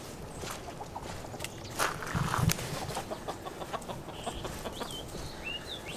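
Backyard chickens cluck softly at a distance outdoors, with scattered scratching and footstep-like rustles and faint birdsong over a steady low ambient background.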